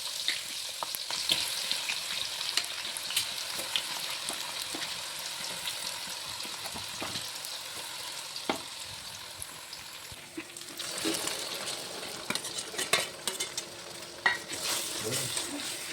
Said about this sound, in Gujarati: પછી નાખીએ આપણે કાંદા.